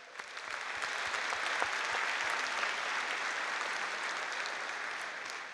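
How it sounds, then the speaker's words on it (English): A crowd applauds at a Liberal political rally, broad continuous clapping that swells in over the first second and holds strong and even, with some distinct nearby claps standing out from the mass. "So a big round of applause for all of you."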